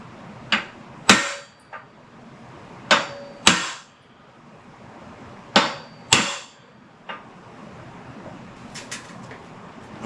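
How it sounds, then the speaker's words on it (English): A hammer drives a pin out of an early Ford front straight axle from 1939–1948. Sharp, ringing metal taps land close by in irregular pairs and singles, with short pauses between them. "Tap this one out."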